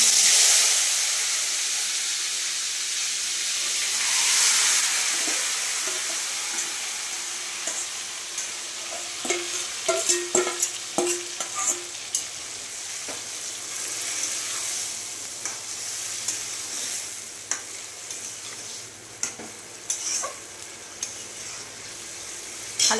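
Hot oil sizzles steadily in a pan, with a strong hiss at the start and scattered crackles and spatters through the rest, heard close and alone.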